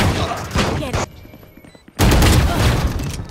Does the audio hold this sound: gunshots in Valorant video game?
yes